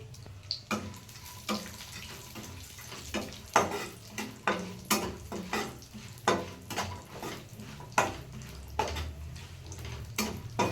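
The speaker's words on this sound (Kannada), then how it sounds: "ದ್ರಾಕ್ಷಿ ಮತ್ತು ದ್ರಾಕ್ಷಿ ಮೂರನ್ನೂ ಹಾಕಿ ತುಪ್ಪದಲ್ಲಿ ಹುರ್ಕೊತಾ ಇದ್ದೀವಿ" Cashews, almonds and raisins roasting in ghee in a pan, with a steady soft sizzle under repeated scraping and stirring strokes, close up and moderately quiet, no talking.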